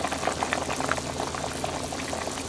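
A pot of pork intestine stew with daikon, carrots and konjac simmers steadily, a continuous close bubbling hiss with small pops scattered throughout and no voices.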